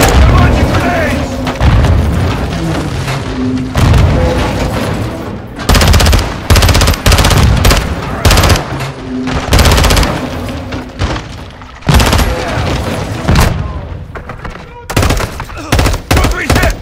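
Call of Duty MWII battle with repeated heavy grenade booms and bursts of machine gun fire, loud and close, in irregular clusters, with shouting soldiers' voices between the blasts.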